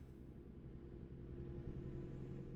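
In American Truck Simulator, a truck's exhaust drones as it passes under a bridge, a low, steady engine rumble that is faint and continuous, swelling slightly toward the end.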